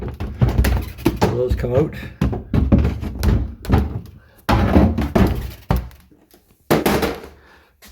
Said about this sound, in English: This one, this middle drawer goes on these slides here.